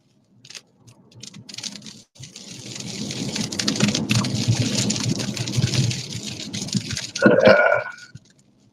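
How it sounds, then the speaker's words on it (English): Heavy rain pours down during a drive, a dense steady hiss and patter that builds and holds, with low rumbling beneath and a brief louder burst near the end; faint voices barely surface. "Then rain, and more rain."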